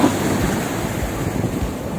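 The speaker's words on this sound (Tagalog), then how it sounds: "Talagang malakas lang ang alon" Strong sea waves wash onto a white sand beach, a loud, steady roar of surf filling the scene with continuous low rumble and hiss, no voices.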